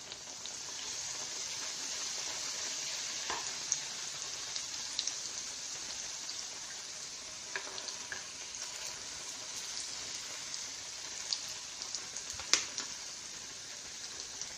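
Banana fritters (pazham pori) deep frying in hot oil, a steady dense crackling hiss throughout with scattered small pops, nobody talking.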